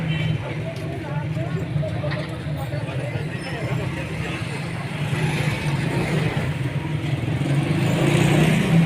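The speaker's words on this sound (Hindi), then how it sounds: "इस बेहंगम ट्रैफिक" Chaotic road traffic at a busy chowk in Pakistan, a dense wash of car, truck and motorcycle noise with chingchi rickshaws, with babbling voices mixed in and the din growing slightly louder toward the end.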